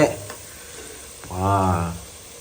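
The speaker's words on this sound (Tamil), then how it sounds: "மசாலா போட்டு சூப்பரா வதக்கியாச்சு ஃப்ரெண்ட்ஸ்." Masala for chicken biryani sautéing in a hot pan gives a soft, steady sizzle and frying hiss that swells briefly near the end, close and moderately quiet.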